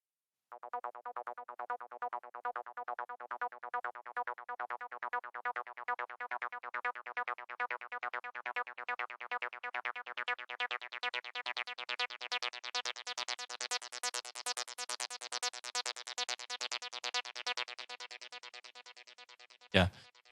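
Acid synth line from a Behringer TD-3, a steady stream of buzzy repeating notes whose filter sweeps open toward a bright peak before closing down, ending with a sharp click.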